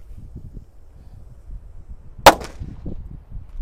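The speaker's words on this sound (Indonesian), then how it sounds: "Selanjutnya ini ada mercon tongkat kera kaget ya. Langsung kita nyalakan." A single sharp bang from a 'tongkat kera kaget' stick firecracker bursts out once, loud and close, against a faint low background rumble.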